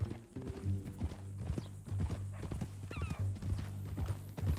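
Horse hooves clip-clop in Red Dead Redemption 2, a quiet irregular walking rhythm with a snort or whinny partway through, over a low steady drone.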